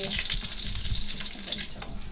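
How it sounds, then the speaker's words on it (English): Vegetables sautéing in olive oil and butter in a pot give a steady close sizzle with soft clinks and stirring scrapes, continuous and fairly loud throughout. "So I put a little olive oil in the pot and some butter. saute"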